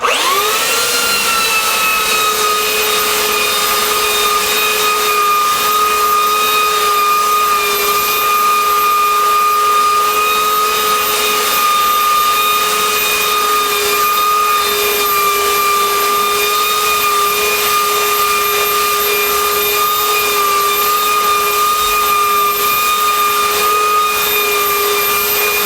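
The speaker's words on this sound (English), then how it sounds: "So we've got a used sanding belt on, obviously." A belt sander fitted with a worn 50-grit belt runs continuously across a wooden sign board on a sanding jig, a steady loud high whine with strong sustained tones and a rough grinding hiss for the whole stretch, no voices.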